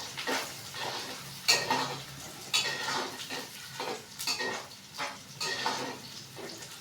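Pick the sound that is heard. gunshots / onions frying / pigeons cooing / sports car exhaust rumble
onions frying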